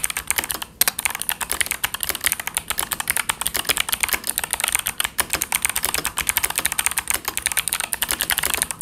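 Steady, fast typing on a Voyager 68 mechanical keyboard with an aluminium case and pre-lubed switches, a close run of crisp, evenly paced key clacks heard alone.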